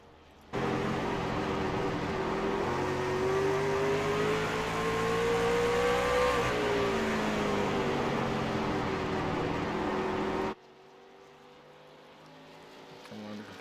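A racing truck in the ViRL racing video game revs steadily, its engine pitch rising and then falling through a hot lap in one continuous loud drone that cuts off abruptly, with a commentator talking over it.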